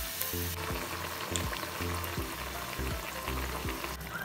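Potato vadas deep fry in hot oil, giving a close, continuous bubbling sizzle with repeated soft clatters of a spoon turning them, and no speech.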